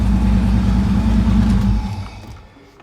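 A Mercedes 6.9 V8 runs loud and close, its low steady rumble holding for nearly two seconds before it fades away toward quiet, with no talk heard.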